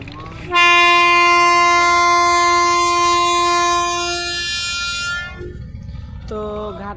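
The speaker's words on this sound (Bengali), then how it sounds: "সেজন্য মাস্টার হর্ন দিচ্ছে" The passenger launch Mayur-2 sounds its horn while berthing at a river launch terminal. It gives one long, loud, steady blast lasting several seconds, then a brief lower blast after a pause.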